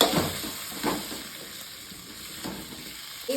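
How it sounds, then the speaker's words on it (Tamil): Halved tomatoes sauté in a hot pan with a steady soft sizzle and hiss, broken by a few brief stirring scrapes near and alone. "இப்போ ஒரு மூணு தக்காளி எடுத்து ரெண்டாக கட் பண்ணி இதையும் வதக்கணும்"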